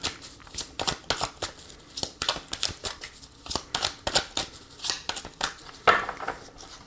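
Oracle cards are shuffled by hand for a card reading, a close series of crisp, riffling bursts repeating in an uneven rhythm with short pauses between.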